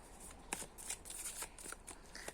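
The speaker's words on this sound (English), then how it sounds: "Let me pull quickly a few more cards so we can" Tarot cards being shuffled by hand, a quiet run of papery riffles and flicks in close succession, soft and near with no talking.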